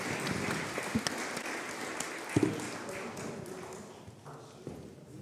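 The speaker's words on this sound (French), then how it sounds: "On peut les applaudir." Applause fills a conference hall after a round-table discussion, a steady wash of clapping with a few sharper knocks, gradually thinning toward the end.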